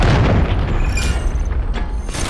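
Cruise missile strikes in a shooter video game, a heavy rumbling boom with a long low roar and scattered crackling bursts, loud and close, with no talk.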